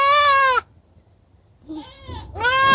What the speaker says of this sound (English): It's a baby goat.